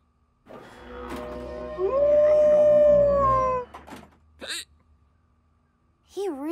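A hound howls in a cartoon scene: a long, rising, drawn-out wail, then a brief pause and short wavering whimpers and yips, fairly close and clear.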